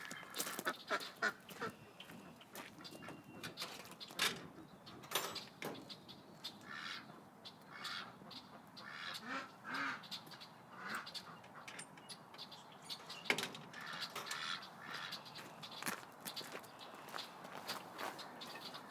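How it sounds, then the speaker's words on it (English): Ducks quack intermittently in a hospital pen, a steady busy backdrop of calls at moderate distance, with occasional footsteps and clatter and no talking. "I'm going to put her in with the other ducks in the hospital."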